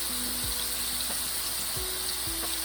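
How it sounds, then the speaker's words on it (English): Chicken tikka pieces sizzling and frying in a pan, a steady bright hiss with a few soft clinks and scrapes, close and continuous without talk. "I'll fry it in 2 batches."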